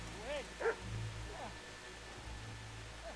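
A dog in the medieval role-playing game Kingdom Come barks a few times early on, fairly faint within a noisy game soundscape with a low steady hum.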